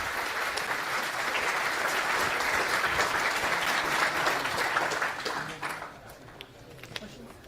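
An audience at a Bitcoin hackathon claps after a talk, a steady burst of applause that holds for several seconds and then thins out to a few scattered claps.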